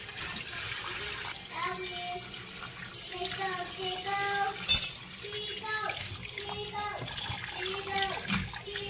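Red grapes are washed under a running tap, a steady close stream of water splashing into a sink while someone talks over it.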